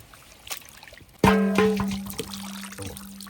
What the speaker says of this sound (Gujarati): અહીંયા પાણી ઢોળી નાખીએ